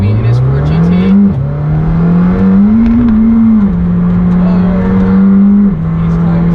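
A Ford GT and McLaren Senna head onto the Nurburgring, one engine droning loud and close at a steady low pitch with small rises and dips as it pulls away, tire and wind noise layered over it.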